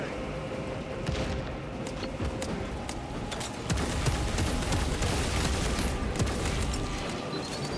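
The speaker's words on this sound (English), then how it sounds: "Throwing shock grenade." A shock grenade is thrown in Warhammer 40,000: Space Marine 2 amid battle: dense, continuous gunfire and crackling combat noise, with a louder surge of bursts partway through, no voices.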